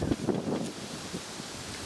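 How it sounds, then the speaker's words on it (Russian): Outdoor wind gusts in a rural yard, a soft broadband rush that buffets the microphone with low rumbling bursts, steady and fairly faint, with no voices. "Вот ветер несет."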